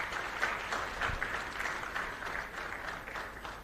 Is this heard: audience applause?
yes